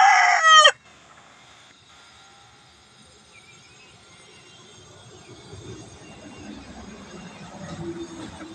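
A Kanawayon gamefowl rooster, a White Gull cross, lets out a loud crow that is cut off within the first second, followed by quiet farmyard background.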